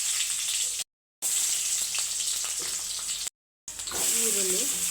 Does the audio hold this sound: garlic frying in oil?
yes